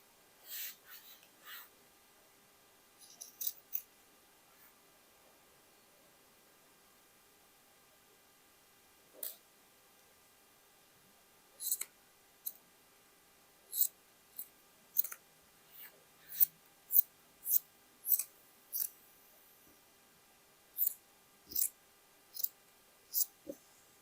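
Scissors snipping through men's shirt fabric, heard as faint, sparse clicks early on and then a regular run of quiet close snips in the second half.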